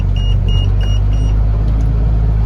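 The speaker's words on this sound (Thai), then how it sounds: "มาดูหกล้อขึ้นเนินครับ หกล้อขึ้นเนิน" A six-wheel truck climbs a slightly steep hill on a rough, potholed road, its engine a loud, steady, close rumble with no let-up.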